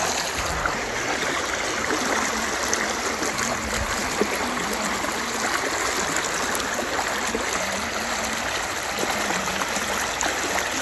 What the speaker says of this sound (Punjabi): ਬਹੁਤ ਤੇਜ਼ ਪਾਣੀ ਆ ਯਾਰ